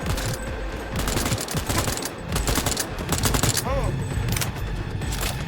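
Heavy machine gun fire in Cyberpunk 2077, a dense, continuous stream of rapid shots at steady loudness through the whole stretch, with mechanical clatter layered in.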